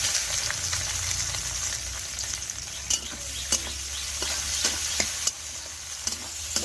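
Chopped onion fries in hot oil with clove and cinnamon, a steady close sizzle broken by sharp clicks and scrapes of a spatula stirring the pan.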